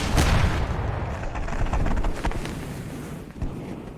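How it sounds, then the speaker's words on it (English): A Panzer tank explodes in a wartime battle near a bridge, giving a loud, rumbling blast with a sustained roar and crackle throughout, broken by a brief dip and a second thump near the end. "Then, an explosion."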